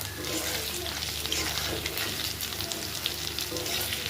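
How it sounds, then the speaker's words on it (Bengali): Chana dal (split chickpea) fritters sizzle steadily in oil in a wok while being flipped, a dense continuous crackle with small scraping stirs, close and fairly loud, no talking. "এবার আমি বড়াগুলো উল্টে দেব।"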